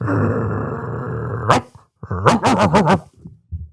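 A dog gives a long, close, rumbling growl, then after a brief pause breaks into a quick series of loud barks and yips.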